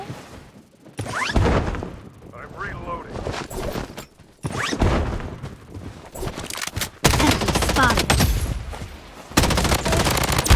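Gunfire in the shooter game Blood Strike rattles out in loud, dense automatic bursts and booming shots, separated by brief lulls, with voices talking over parts of the action.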